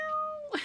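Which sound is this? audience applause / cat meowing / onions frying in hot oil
cat meowing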